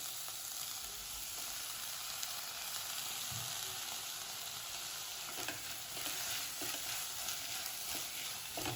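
Boiled kidney beans tumble into a hot pan for a rajma dish and are stirred, giving a steady close sizzle with scraping spoon strokes throughout, no talking.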